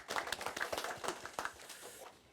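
Attendees at a KISTEP policy forum give brief, faint applause: a scattering of distinct hand claps from a small group that fades out within about two seconds.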